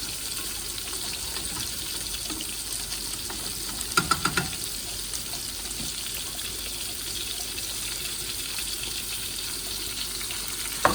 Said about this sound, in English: Want to get a good char on these, so just keep watching.